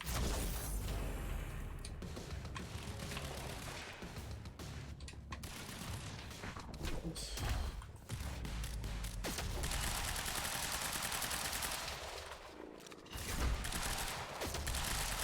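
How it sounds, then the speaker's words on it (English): Sustained automatic gunfire from a gunfight in the video game Quantum Break, dense and loud throughout with mechanical clatter and occasional heavier bursts, and no talk. "Just gonna stand here and shoot this man full of bullets."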